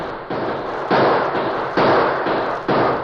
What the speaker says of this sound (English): Bull Davis's men saw them and opened fire